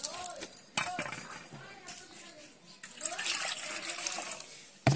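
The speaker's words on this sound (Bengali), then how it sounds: "জল দিয়ে ধুয়ে নিচ্ছি।" Fresh coriander leaves washed by hand in a basin of water, with soft splashing, sloshing and trickling in intermittent bursts, fairly quiet and close, while a person talks.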